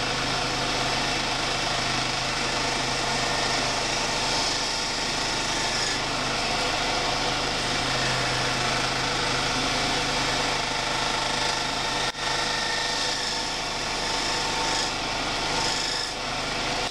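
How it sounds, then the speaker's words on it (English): A hand saw blade trims the bottom of wooden gear and clock wheel teeth, making a steady, continuous rasping scrape that runs close and loud for the whole stretch with no talk. "I'll come back with the saw blade and I'll trim out the bottom part."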